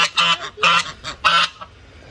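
Large geese and ducks honk at close range on a family outing in Toodyay, three loud, raspy bursts of calls in quick succession, then trailing off, with no talking.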